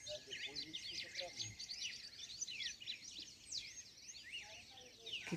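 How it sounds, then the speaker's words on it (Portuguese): Many small birds chirp and trill together on a rural farm with a siriguela tree, a busy overlapping chorus of high calls at moderate distance, steady throughout with faint low background noise. "Olha, quantos passarinhos cantando."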